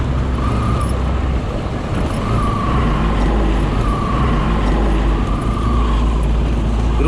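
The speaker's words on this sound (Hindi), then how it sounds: "देखो आ गई बस एकदम पास में" A bus on a mountain road rolls past close by, its steady engine and tyre rumble loud and continuous, with faint horn-like tones drifting over the roadway noise.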